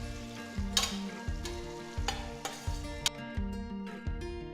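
Thinly sliced medium onion frying in a pan with spices, a steady close sizzle with repeated stirring scrapes through the pan while browning.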